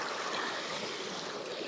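Sea waves washing in at a beach in Cavite, a steady broadband rush of surf heard up close with no talking.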